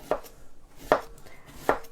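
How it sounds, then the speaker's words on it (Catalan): A knife slicing cabbage finely for sauerkraut, giving three crisp, evenly spaced chopping strokes on a board, close and clear with quiet gaps between the cuts. "Amb un ganivet l'aneu tallant ben fineta."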